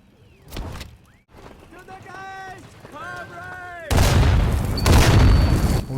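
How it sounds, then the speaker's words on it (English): Someone narrates over battle sounds in the VR shooter Sniper Elite VR, with a sharp shot early, then a loud roar of gunfire and explosions that breaks in and fills the last couple of seconds. "The town of Pazzano was under attack."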